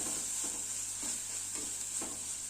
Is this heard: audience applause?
no